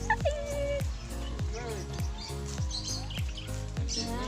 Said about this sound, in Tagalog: ang sarap ng puni ng ibon